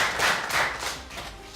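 Audience clapping at a presentation of an exam-security invention in Zambia: a short, moderately loud burst of applause that swells twice and then thins out.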